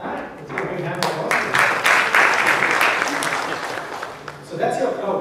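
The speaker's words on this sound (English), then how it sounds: "Let's give a big hand for us." An audience applauds at The Hive India big data business event, loud, dense clapping that swells and then fades, with a voice speaking over the end.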